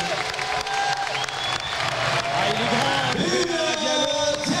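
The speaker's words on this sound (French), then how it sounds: "Donc je vous demanderai de l'applaudir." Boxing arena crowd at a 2003 world championship fight applauding and cheering, a dense, steady roar of clapping and voices with whoops swelling near the end, loud and continuous.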